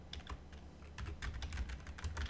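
Rapid, irregular keystrokes on a computer keyboard as a title is typed into a drawing title block in IronCAD 2021 CAD software, close and steady with no speech.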